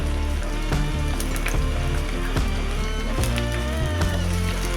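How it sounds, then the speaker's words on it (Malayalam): Garlic, ginger, slit green chillies and curry leaves sauté in hot oil in a pan, a loud continuous sizzle broken by sharp crackles and occasional scraping stirs, close up with no talking. "നമുക്കിതൊന്ന് വഴറ്റിയെടുക്കണം."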